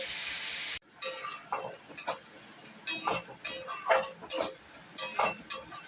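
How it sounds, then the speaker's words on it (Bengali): Onions sizzle while frying until browned for a spicy crab curry, with a loud hiss at the start, then bursts of crackling and spatula scraping against the pan. "পেঁয়াজটা লাল করে ভেজে নেব।"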